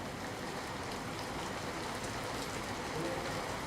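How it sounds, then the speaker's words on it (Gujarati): Heavy rain pours down in Amreli district as a dense, even hiss that stays loud and unbroken throughout. "સાવરકુંડલા પંથકમાં અનરાધાર વરસાદ નોંધાયો છે"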